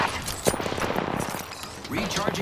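Rapid gunfire in a video game, a dense run of shots mixed with game effects while a voice talks over it.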